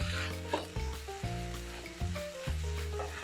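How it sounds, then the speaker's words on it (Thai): Spring onions stir-fried with papaya and egg over high heat, a loud close sizzle broken by rhythmic scraping strokes of a spatula in the pan, with no talking. "พอทั่วดีเราก็ใส่ต้นหอมลงไปผัดไฟแรงอีกทีหนึ่งค่ะ"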